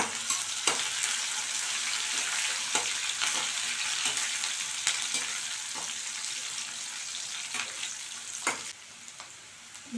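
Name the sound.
curry leaves sizzling while frying for banana stem stir-fry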